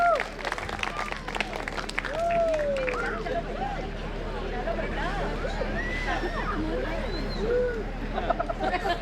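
An audience at a stage show applauds two families brought up for a finale family act. Steady clapping and crowd babble fill the whole stretch, with occasional whistles and voices mixed in.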